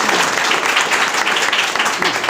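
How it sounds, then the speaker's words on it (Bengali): An audience bursts into brisk, dense clapping at a gathering, a short, loud, even wash of many hands with no pause. "একটা হাততালি হোক"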